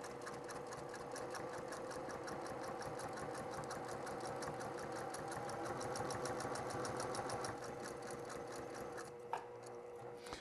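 A sewing machine stitches through cork for a journal, running as a steady rhythmic chatter of fast needle strokes throughout, fairly quiet and close, with a small click near the end.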